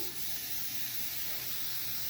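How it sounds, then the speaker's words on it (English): Cooking spray is sprayed onto a muffin pan in a home kitchen, a soft continuous aerosol hiss heard close by and fairly quiet, running steadily throughout. "I'm going to spray my muffin pan."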